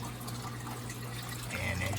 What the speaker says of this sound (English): it's coming out this pipe right here, draining well